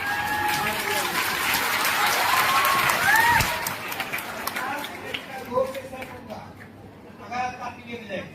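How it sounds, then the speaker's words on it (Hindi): A large audience claps in a loud, dense wash at a coaching institute's annual celebration, the applause fading into scattered claps and murmurs with brief voices and whistles. "आप जितना ताली बजाएंगे उतना जल्दी मैं जाऊंगा"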